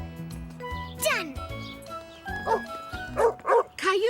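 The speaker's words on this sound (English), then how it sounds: "The dogs sounded angry." Angry cartoon dogs bark in sharp, repeated bursts, several loud barks and yips clustered toward the end, with a voice and jingling sounds earlier in the scene.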